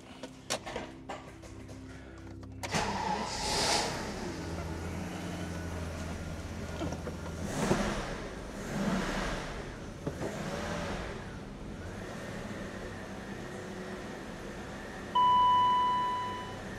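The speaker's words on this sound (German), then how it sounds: "dann muss ein 12-Zylinder muss sein, und das ist eben der 850i, und wir können ihn kurz einmal brummen lassen." A BMW 850i twelve-cylinder engine, a rare manual-gearbox classic, starts and revs with a few rising and falling swells of engine noise, followed by a steady beep near the end.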